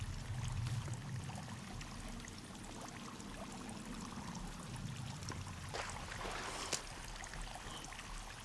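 Water swirls and trickles around a character wading in a cave in the video game Sons of the Forest, a soft continuous wash with a few faint splashes and no speech.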